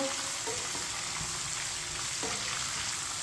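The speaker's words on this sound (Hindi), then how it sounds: "अब 2 मिनट के लिए चम्मच चलाते हुए भून लेंगे सब चीज़ों को" Vermicelli and dry fruits roasting in a pan for sweet seviyan, a constant soft frying hiss with occasional light spoon knocks and scrapes as they are stirred, near and without talk.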